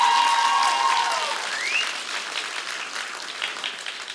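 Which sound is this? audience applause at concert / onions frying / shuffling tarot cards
audience applause at concert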